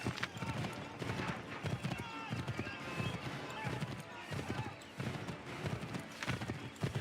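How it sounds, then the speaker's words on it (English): A horse gallops in the video game Assassin's Creed III, with rapid rhythmic hoofbeats pounding close and loud throughout, occasional whinnies, and voices talking over the ride. "I just have to be careful how hard I spur the horse."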